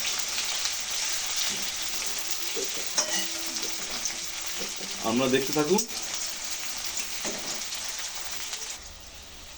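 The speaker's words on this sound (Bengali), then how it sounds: "পেঁয়াজ তারপর কষতে করতে হবে।" Onions frying in a pan for a chicken curry give a steady soft sizzle with a few stirring scrapes and clatters midway, while a voice speaks briefly over the cooking.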